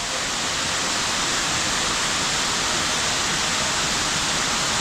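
Dedari Falls, a jungle waterfall in Bali, roars as a dense, steady, close-up wash of falling water, constant and unbroken with no voices.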